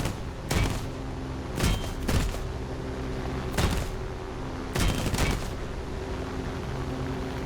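Aircraft guns fire in War Thunder during a dogfight with a P-39 Airacobra against a Spitfire, in several loud, rapid bursts of gunfire spaced a second or so apart over a constant engine drone, with no talk.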